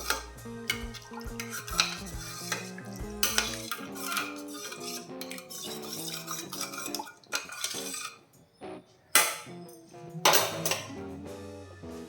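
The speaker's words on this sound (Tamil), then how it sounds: "நல்லா மிக்ஸ் பண்ணிக்கோங்க" A spoon clinks and scrapes against a metal pot as Kerala-style ginger curry with tamarind is stirred, with music playing throughout.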